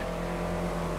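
A stock car's engine in GTA 5 drones steadily at close range for about a second, a continuous hum with a faint rising edge and no talk.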